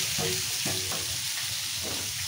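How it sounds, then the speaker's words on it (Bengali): Fritters (bora) deep-frying in hot oil until crisp, a steady close sizzle with a few soft stirring scrapes, no voices. "এখানে বড়া ভাজছি মশমশা করে"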